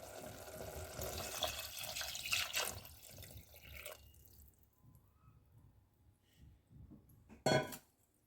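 Water pours into a pan of mint rice, a steady splashing stream for several seconds that thins out, followed by a sharp clink of utensil on metal near the end.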